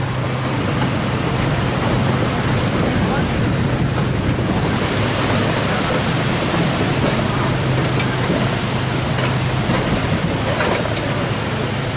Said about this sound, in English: this bridge we'll be crossing, it has a waterfall underneath it